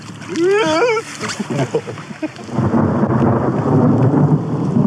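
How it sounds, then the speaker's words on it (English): Heavy rain pours steadily while deep thunder rumbles, and a person's voice rises and falls in an exclamation near the start. "we ended up getting caught out in a thunderstorm"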